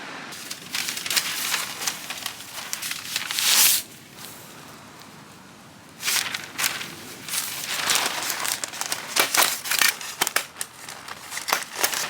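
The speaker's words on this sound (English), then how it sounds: "Heavy duty cutter, and then I'm gonna wrap in paper." Cut tulips being wrapped in paper, with crisp crinkling and rustling in bursts, a short quieter pause, then more steady close paper handling with sharp crackles.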